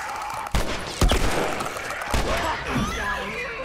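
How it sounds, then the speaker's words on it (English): Gunfire in The Last of Us video game, a few heavy shots and impacts in quick succession amid a dense wash of combat noise, with voices mixed in. "Whatever you do, don't stop shooting."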